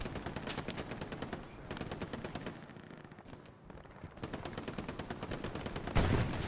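Rapid automatic gunfire from a World War II battle in Hell Let Loose, bursts of dense machine-gun fire that pause briefly midway and then resume, ending with a heavier blast.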